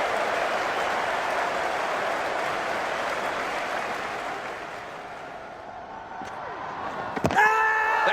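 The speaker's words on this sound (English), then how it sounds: "Listen to the cheer." The crowd at Lord's cheers and applauds during an England versus Australia Ashes Test in 2005, a broad, loud roar that slowly fades before a sudden sharp burst near the end.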